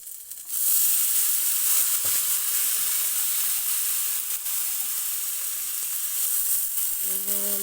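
Kangkong (water spinach) hitting a hot pan and frying, a loud bright sizzle that bursts up after a quiet start and holds steady, with a short voice near the end.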